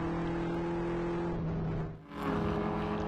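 The PC Racing BMW race car roars along the track at Hallett, engine note sustained and loud, dipping briefly as it passes, then surging back up.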